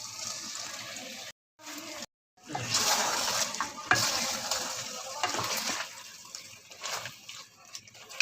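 Chicken qorma with ginger is stirred and roasted in a pot, giving a steady wet scraping and sizzling texture with a short break near the start, then continuous stirring that gradually softens.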